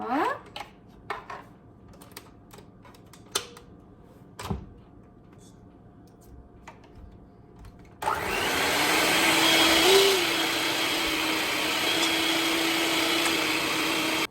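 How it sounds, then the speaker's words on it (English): An electric mixer whipping egg whites for bread starts after a stretch of scattered kitchen clatter. It then runs as a loud, steady whir for the remainder, with no talk. "While I'm whipping, I started whipping it a little bit, you can see here."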